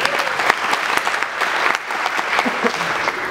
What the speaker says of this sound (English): A round of applause for Aaron's tip there